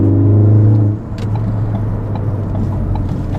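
Ford car fitted with a Ford Performance exhaust, running loud and close with a deep steady drone, easing from a higher rev to a lower idle-like rumble after about a second.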